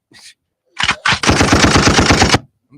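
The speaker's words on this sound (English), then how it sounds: "Can I get a gunshot for that?" A loud gunfire sound effect: a faint lead-in, two sharp single shots, then a rapid burst of about a dozen evenly spaced automatic rounds, alone and up close with no talk.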